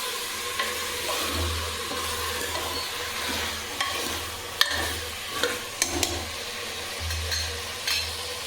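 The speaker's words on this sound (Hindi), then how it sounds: "तो सब्जी को अच्छे से भून लूँगी दोनों को" Vegetables with tomatoes and spices sizzle steadily in a hot pan while a spoon scrapes and stirs them, with a few sharper clinks standing out from the constant frying hiss.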